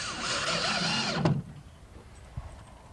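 A power drill drives screws straight into wood with no pilot holes: a loud, close whirring burst of about a second that ends in a sharp thump. Quiet room tone follows, with one soft knock.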